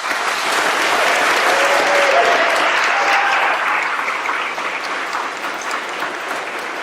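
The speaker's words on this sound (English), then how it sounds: "And one more round of applause for the graduates." Audience at a May 2016 hooding ceremony gives the graduates a sustained round of applause, dense and steady, loud at first and easing slightly toward the end, with no talking over it.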